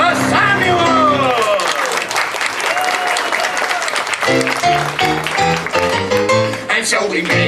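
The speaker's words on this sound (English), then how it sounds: "And let's hear it for Sir Samuel." A Disneyland Fantasy Faire audience applauds and cheers after a Tangled stage show, with steady crowd clapping running through the clip over loud, continuous music.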